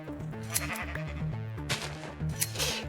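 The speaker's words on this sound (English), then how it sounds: "Instead, we have sheep." Sheep in the Minecraft video game bleat several times over steady, tonal game music, with short repeated calls spread across the clip and no talking.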